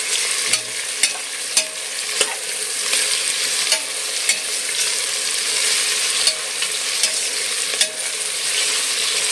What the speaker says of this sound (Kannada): ಈರುಳ್ಳಿನೂ ಹಸಿಮೆಣಸಿನ್ಕಾಯಿ ಹಾಕ್ಕೊಂಡಿದ್ದೀನಿ ನೋಡಿ ಇದನ್ನು ಇವಾಗ ಒಂದು ಸ್ವಲ್ಪ ಗೋಲ್ಡನ್ ಕಲರ್ ಬರೋ ತನಕ ಫ್ರೈ ಮಾಡ್ಕೋಬೇಕು